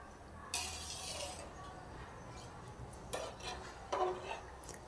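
A cooking pot of partly cooked rice for tawa pulao is shaken on a gas stove, giving a few short, close metallic clatters and rattles separated by quieter stretches.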